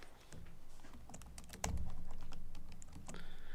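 Quiet, close keystrokes from a computer keyboard as a password is typed: an irregular run of light clicks with one sharper, heavier press partway through.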